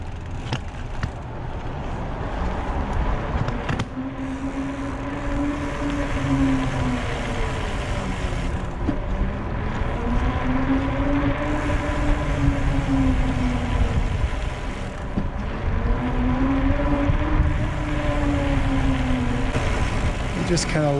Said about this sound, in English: squeeze the brakes slowly and easily until we come to almost a stop, let go, and then do it again